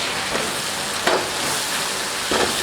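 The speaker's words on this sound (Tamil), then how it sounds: "நல்லா இந்த கரண்டி வச்சு இப்படி தள்ளி விட்டு நல்லா மேஷ் பண்ணி எடுத்துருங்க" Tomatoes frying with onions in a pan for a spicy squid fry, a steady loud sizzle with a few scraping knocks as a ladle pushes and mashes them.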